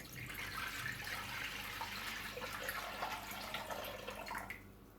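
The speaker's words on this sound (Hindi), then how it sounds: "नॉर्मल टेम्परेचर का पानी यानी टैप वाटर हम इसके अंदर डाल देंगे।" Room-temperature tap water pours steadily into a bowl while kulfi is being prepared, making a faint, continuous splashing stream that softens near the end.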